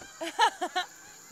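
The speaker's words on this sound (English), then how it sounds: "that's the beautiful geese here in Finland" Geese in Finland give four quick, nasal honks in a short burst, near and clear against a quiet background.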